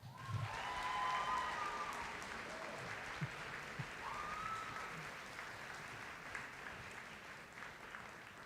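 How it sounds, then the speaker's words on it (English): Audience applause at a high school senior departmental awards ceremony, a steady, sustained clapping from a crowd in a hall lasting throughout, at moderate distance with a few louder claps. "hold your applause until they're done"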